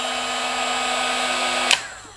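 A Ryobi R18HG-0 cordless heat gun blows with a steady, fairly quiet whine and airy hiss, then shuts off with a short click, followed by another faint click.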